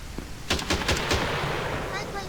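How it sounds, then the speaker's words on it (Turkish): Gunfire in the zombie game Quarantine Zone: a quick burst of three or four sharp shots around the middle, with game sounds continuing afterward. "Mehmet'in kafasına sıkıyorlar yan tarafta."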